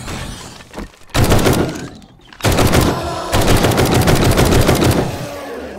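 Rapid automatic gunfire in the video game 7 Days to Die, set to three-round burst mode, coming in loud sustained volleys separated by short gaps, with no talk over it.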